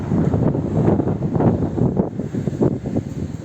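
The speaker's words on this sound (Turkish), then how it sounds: "çok rüzgar var." Strong, gusty wind buffets the microphone in a continuous low roar that rises and falls in bursts, with no speech.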